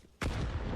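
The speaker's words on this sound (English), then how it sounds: "Oh, great nade." A grenade detonates in Counter-Strike during a DreamHack Masters semifinal between Heroic and Natus Vincere, a sudden loud boom that hits at once and then rolls on as a dense, sustained rumble.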